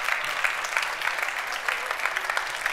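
Audience applause fills an award ceremony hall for the Green Product Award Fashion 2023, a steady dense clapping sustained throughout without pause, moderately loud and even.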